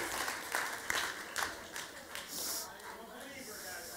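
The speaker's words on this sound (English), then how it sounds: "Give him a big round of applause." Audience applause at a gala, a soft wash of clapping with a few distinct claps near the start, under and alongside a speaking voice.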